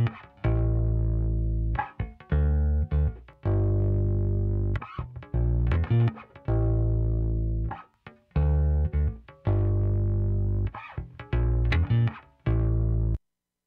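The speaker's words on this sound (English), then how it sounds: "The EQ moves that I'm doing are kind of making it sound like it's a rounder and shinier style bass guitar" Bass guitar played through a Pulsar P455 sidecar with mild distortion and EQ, sounding round and bright; a string of sustained notes and short phrases, loud and close, with brief gaps and no talk.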